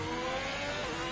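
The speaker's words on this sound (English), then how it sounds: "Can we just appreciate the low revving sound of the Alpine?" An Alpine race car engine drones at a steady low rev in a racing video game, a brief continuous hum with no talking.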